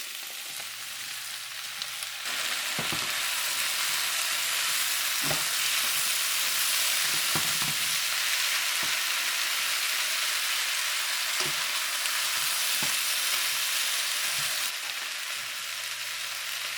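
Potatoes frying in a pan of pork curry, a loud, close, steady sizzle that swells after a couple of seconds and runs throughout, with intermittent scraping knocks as they are stirred.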